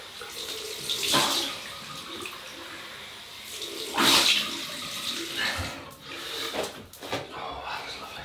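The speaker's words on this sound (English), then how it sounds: "Cold water rinse." Tap water runs for a cold rinse during a shave, a steady close splashing and gushing flow that swells and fades, heard under talk in the room.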